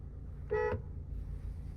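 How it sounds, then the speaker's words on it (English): A single short car horn honk from a 2023 Kia Sportage X-Line, brief and fairly faint, over a low idling engine rumble. "You have your horn. I've actually never heard the horn. Let's give it a honk."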